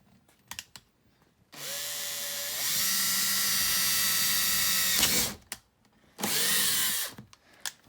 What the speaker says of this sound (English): we're going to take our drill, and like I mentioned, we have a 1/4-inch drill bit